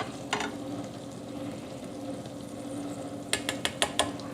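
Low sizzling of food frying in a pan, with a few sharp clinks of a utensil against metal near the end.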